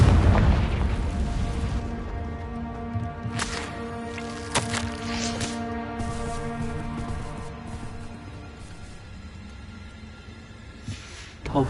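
A Confringo spell explosion in the Hogwarts Legacy video game: a deep booming blast at the start that rumbles and decays, followed by sharp crackling bursts and lingering reverberant tail, fairly quiet overall.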